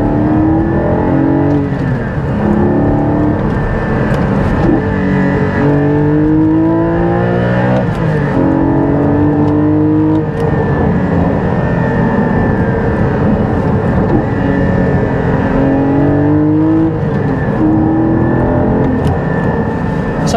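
Porsche GT4 second-generation engine revving hard under full throttle, repeated rising pitch sweeps as it accelerates through the gears, loud and close throughout with no talking.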